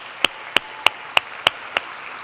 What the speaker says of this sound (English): Can I have a round of applause for the staff?